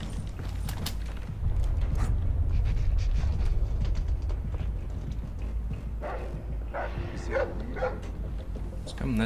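A dog barks and yips in the video game Splinter Cell: Blacklist, the short bursts mixed into busy game noise while people talk over it.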